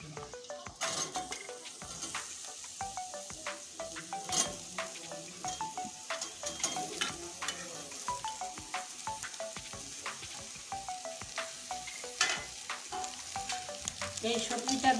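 Mixed vegetables fry in a hot pan with a continuous crackling sizzle while a spatula scrapes and clinks against the metal in quick, repeated strokes. No voices are present.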